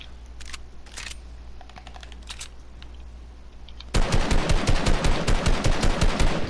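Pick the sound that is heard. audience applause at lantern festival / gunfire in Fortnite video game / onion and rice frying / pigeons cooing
gunfire in Fortnite video game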